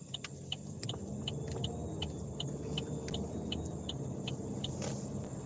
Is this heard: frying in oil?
no